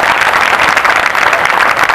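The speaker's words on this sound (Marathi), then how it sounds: "हा जोरात टाळ्या" A crowd claps loudly and continuously at a felicitation ceremony in a Buddhist vihara in Jay Bhim Nagar, Hiranandani, Powai, Mumbai, producing a thick, steady roar of applause with no breaks.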